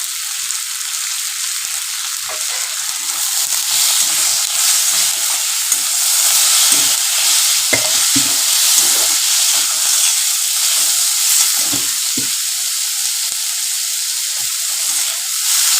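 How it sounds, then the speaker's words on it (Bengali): Chopped chicken frying in a lentil tarka, a steady bright sizzle with hiss and steam and occasional soft stirring sounds, loud and close. "এর মধ্যে একটু চিকেন কুচি তুলে দিলাম"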